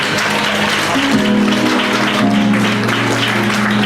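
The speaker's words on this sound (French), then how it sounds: "Applaudissez, s'il vous plaît." Applause at a celebration event, a steady wash of clapping heard over a sustained musical drone with tonal notes, loud and continuous throughout.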